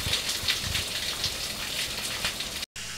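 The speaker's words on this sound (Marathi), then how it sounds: "खूप म्हणजे खूप पाऊस आहे." Heavy unseasonal evening rain pours down in a dense, loud, steady roar of drops hitting surfaces nearby, cut off by a brief dropout near the end.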